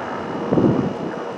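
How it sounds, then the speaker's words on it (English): A low, rumbling helicopter drone swells and fades over steady wind noise as the helicopter drags a wire near new power line towers, with no voices. "there's the helicopter again, and he's uh, dragging a wire."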